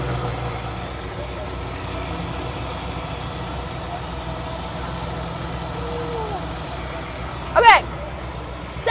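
A carbureted car engine idles steadily and close by for several seconds, a low continuous rumble with a brief louder burst near the end.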